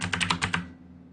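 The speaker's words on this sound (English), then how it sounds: "I'm pressing the arrow keys to get it" Computer arrow keys pressed in a quick series of about six crisp taps, close and moderately quiet, ending in silence.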